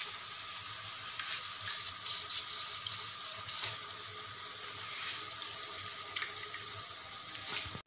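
Half a kilo of ordinary rice for mutton biryani is rinsed under a running tap, a constant hiss of flowing water with scattered light splashes and clicks, steady and fairly close, with no speech.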